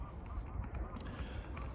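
Geese honking in flight, close overhead during a hunt, a steady run of honks over low wind rumble.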